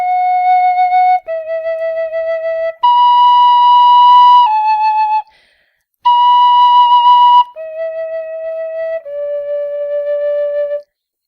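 Tin whistle playing slow held bass notes on their own, a string of long sustained tones with brief gaps between them, clear and close with no other sound.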